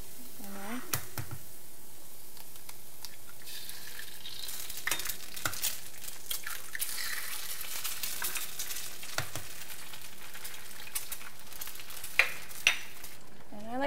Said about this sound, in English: So I'll add a little bit of shallots and garlic. It's a little high, medium-high is good.